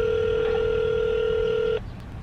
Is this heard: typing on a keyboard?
no